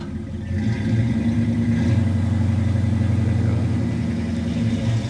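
A classic car's engine rumbles steadily and loudly up close as it pulls away from a diecast and toy show in Port Colborne, a deep continuous throaty drone with no one talking.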